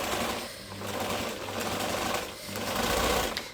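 A sewing machine runs a zigzag stitch up close, a quiet steady mechanical whirring and rapid needle chatter that surges and eases in short bursts with no voices.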